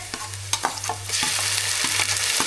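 Onion and green chili frying in hot oil while being stirred for a vendor-style green peas sundal masala, a steady sizzle broken by repeated scraping strokes, close and fairly loud with no talk.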